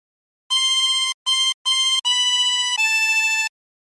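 Harmonica playing a Waltzing Matilda phrase, five clean reedy notes, the first three short and separated, the last two held longer and joined, clear and close with silence around them.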